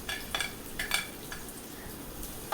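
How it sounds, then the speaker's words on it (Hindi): Chopped onions go into hot oil in a pan while cooking beef pulao, giving a soft steady sizzle with a few faint stirring scrapes and clinks, quiet and close with no talking. "साथ ही फिर मैंने प्याज जो मैंने काट के रखा हुआ है वो भी डाल देना है।"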